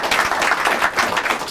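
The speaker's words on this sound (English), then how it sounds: "Big round of applause" Audience applause at the Digital Society School showcase, a dense, continuous patter of many hands clapping, close and fairly loud across a brief stretch.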